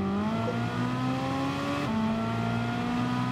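A Ferrari 458 Italia accelerates hard: a loud, sustained engine note climbs steadily, briefly shifts pitch partway through as if changing gear, then keeps pulling.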